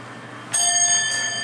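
A Westinghouse MPH hydraulic elevator at a Macy's in Ross Park Mall sounds its arrival bell: one bright chime strikes suddenly and rings on clearly for about a second over a quiet background hum.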